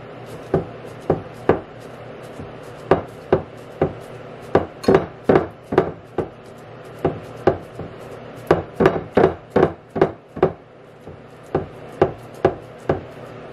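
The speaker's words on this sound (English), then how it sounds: "we're going to go ahead and poke down the dough" Sourdough focaccia dough being poked down with oiled fingers, giving a steady run of soft, close, damp taps and dull knocks, several per second in uneven bursts, with no talk over them.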